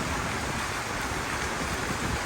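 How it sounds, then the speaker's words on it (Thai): Steady, dense rain hiss, close and even throughout, with no breaks or voices. "ฟังเสียงฝนนะ"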